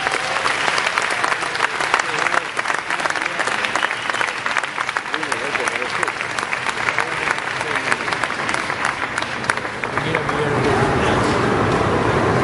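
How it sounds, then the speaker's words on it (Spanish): A jazz audience at a Buenos Aires club applauds pianist Fernando Vidal, the clapping dense and steady throughout, with some crowd murmur mixed in and the sound swelling slightly near the end. "Un aplauso para Fernando"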